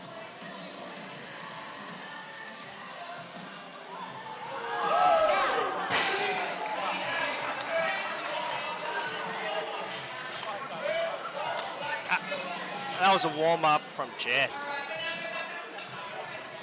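A powerlifting competition crowd lets out an ooh during a women's lift, a swell of voices rising from the room while a commentator talks over it.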